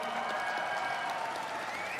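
A crowd at an esports Counter-Strike tournament quarter-final applauds in a steady wash of clapping and cheering, fairly distant and sustained for the whole moment.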